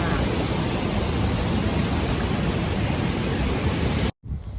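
Waterfall at a hidden forest falls near Ei Tong village in Thailand, a loud, steady broadband rush filling the air without letup, cut by a brief dropout near the end.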